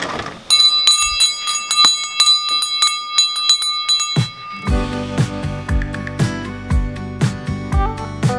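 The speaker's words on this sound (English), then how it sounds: "You want to ring the bell?" A dinner bell rings with bright metallic strikes, first a few clear tones, then a rapid run of clanging hits that ring out and overlap, loud and near with no talking.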